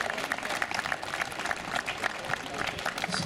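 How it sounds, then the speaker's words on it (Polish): Crowd applause at a county volunteer fire brigade sports competition in Proszowice, moderately loud, busy clapping with some crowd noise mixed in, continuing steadily for a few seconds. "Brawa, brawa jeszcze raz."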